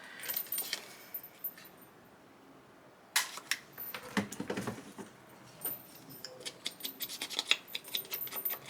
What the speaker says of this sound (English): I'm actually going to cut a little notch out of this one.